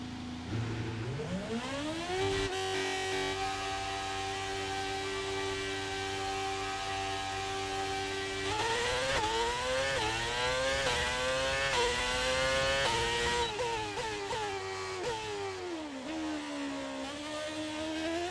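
Formula 1 car engine in the F1 22 racing game, a loud high-revving whine that climbs steadily through the gears, drops on shifts and rises again, running continuously with no talk over it.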